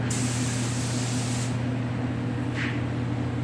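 A spray gun lays a second coat of paint on a square body truck, with a loud, steady hiss for about a second and a half before cutting off, over a constant low hum of shop equipment.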